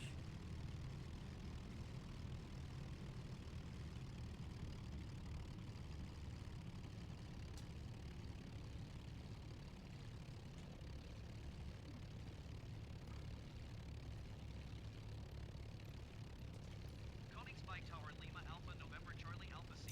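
Four-engined Lancaster bomber in a flight simulator, its propeller engines droning steadily and loud throughout while it taxis toward the runway, with a faint higher chatter near the end.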